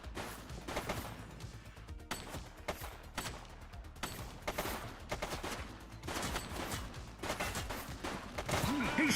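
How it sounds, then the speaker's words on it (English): Rapid gunfire in the police video game The Precinct, dense repeated volleys of shots running throughout with brief gaps, with a voice occasionally speaking over it. "Shots fired!"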